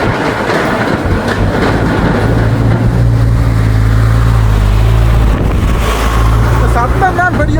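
Train rattling across a bridge, loud continuous rumble and clickety-clack of wheels close by, with a low droning engine tone and a person speaking over it.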